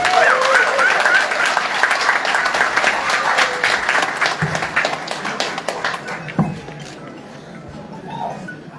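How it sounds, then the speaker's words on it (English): A crowd at a police handover ceremony applauds acting Inspector General Olatunji Disu, loud sustained clapping with some voices mixed in, thinning out and dropping to scattered claps in the last few seconds. "A round of applause for him."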